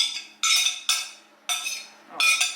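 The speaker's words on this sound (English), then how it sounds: "sorry about the noise in the background, that's my dishwasher" A home dishwasher running in a kitchen, heating up its water, gives off repeated bursts of bright, clattering spray that swell and fade about every half second, set back at a moderate distance.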